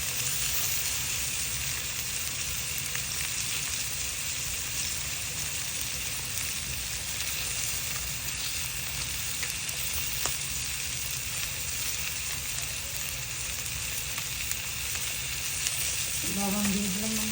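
A spice paste of turmeric, dried chili, cumin and coriander loosened with a little water fries in a pan for a fish curry, giving a loud, steady, close hiss with faint stirring scrapes.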